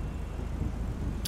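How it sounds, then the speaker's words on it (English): A car drives in Grand Theft Auto 5, a steady, fairly loud engine and road rumble with a brief sharp click right at the end. "Wait for the janitor's car."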